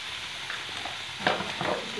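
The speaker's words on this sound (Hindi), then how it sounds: "सब्जियों को ऐड कर दिया है, इनको हम हल्का सा फ्राई करेंगे, भूनेंगे नहीं।" Mixed vegetables lightly frying in a pan for veg Manchurian give a steady soft sizzle, with a few stirring scrapes near the end.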